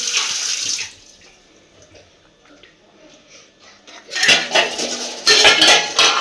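Pots and dishes are washed by hand at a sink, with a quiet stretch of faint trickling water between loud bursts of clattering metal vessels and cutlery clinking close by.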